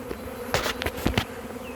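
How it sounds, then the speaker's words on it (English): A large honey bee swarm buzzing close by, with dense overlapping wing hum and several louder individual bees passing near, continuous throughout without talk. "There's so many bees right here."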